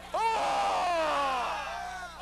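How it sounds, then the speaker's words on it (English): A basketball crowd in a school gym yelling during a District 5 AAA high school matchup, a sustained wave of shouting and screaming voices that swells and then slowly fades. "Both sides of the gym were yelling all night long for the District 5 AAA matchup."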